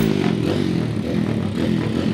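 A stock four-stroke motorcycle engine drones loudly and steadily at a plains drag race, a dense harmonic engine roar with slight clatter held throughout, with no talking.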